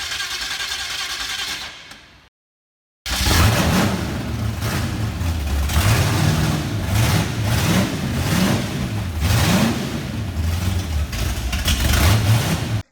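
A 1976 Holden LX Torana's 308 V8 with a 286 cam rumbles loud and steady after a brief dropout, its note rising and falling in repeated rhythmic revs over a deep idle.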